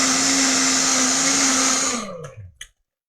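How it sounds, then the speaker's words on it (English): A kitchen blender runs loud and steady with a high whirring motor, then winds down as it is switched off, with a couple of clunks as it stops. "we're gonna pop it on our blender, and I'm really sorry for everyone's ears"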